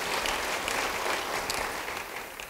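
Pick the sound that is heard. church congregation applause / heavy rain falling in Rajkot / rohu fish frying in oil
church congregation applause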